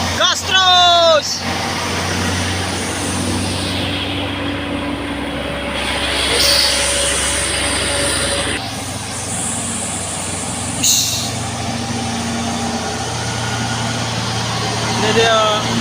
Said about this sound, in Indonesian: rombongan trailer ini bosku. Angkat muatan-muatan yang begitu berat.